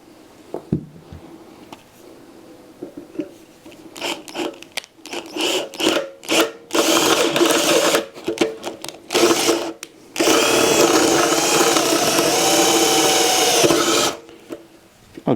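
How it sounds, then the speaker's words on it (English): An electric drill whines in short bursts, then runs in long continuous stretches, loud and close, grinding as it bores through a metal lock on a Royal Enfield motorcycle. "There's the drill. It's come through."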